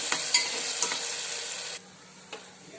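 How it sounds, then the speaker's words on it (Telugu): Tomatoes fry in a pan with a steady close sizzle and a few sharp stirring scrapes; the sizzle drops noticeably quieter partway through, with one more scrape near the end. "టమాటోని ఫ్రై చేసుకున్నాం ఇంకొక టూ మినిట్స్ అయితే మన టమాటో ఫ్రై అయిపోతుంది"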